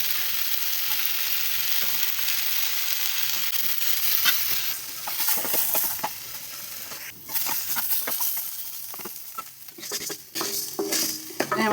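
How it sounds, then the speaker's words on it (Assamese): Black pepper dry-roasting in a pan for a homemade turmeric chutney, with a steady dry sizzle and repeated scraping and stirring strokes close by, the stirring turning irregular and clattery toward the end. "মোৰ জালুকখিনি ভাজা হৈ গ'ল।"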